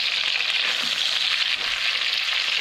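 Horse mackerel fillets fry crowded in a pan with a loud, dense, continuous sizzle and crackle, close up and steady throughout.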